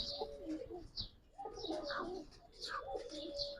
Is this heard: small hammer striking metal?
no